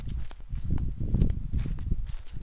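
A horse walks outdoors with a soft, uneven clip-clop of hooves, faint and close by, with no talking.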